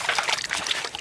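Water splashes and trickles steadily while a large 30-jin beef head is rinsed clean, its surface still covered in fine hair, a close, continuous wet wash with no talk.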